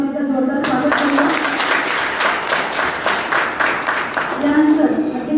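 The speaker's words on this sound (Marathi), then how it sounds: "उपस्थित सर्व मान्यवरांचं आपण टाळ्या वाजवून एकदा जोरदार स्वागत करूया" Audience at a 2021 felicitation ceremony in Ahmednagar bursts into loud, sustained applause to welcome dignitaries, with speaking voices just before and after the clapping.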